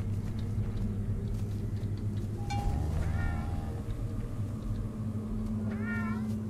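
In the horror video game Zoonomaly, a cat meows twice, a clear mid-distance cry and then another a few seconds later, over a constant low rumbling game ambience.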